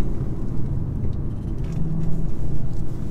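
A 2017 Audi S5 Coupe engine with quattro drive, gearbox in manual mode, drones as a steady low rumble while accelerating, heard from inside the cabin with no talk.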